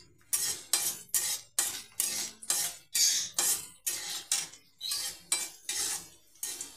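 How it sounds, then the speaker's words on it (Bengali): A spatula scrapes and clinks against a kadai while chili and onion fry in a little hot oil, making about a dozen quick, rhythmic metallic strokes at close range. "আমি লঙ্কা পেঁয়াজটা লাল করে নেব"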